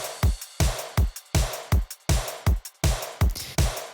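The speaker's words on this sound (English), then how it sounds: "And all of these drums are just samples which are layered." Layered sampled drum kit of kick, snare, hi-hats, cymbals and toms playing a steady punchy beat, sharp evenly spaced hits ringing briefly, loud and upfront with no voices.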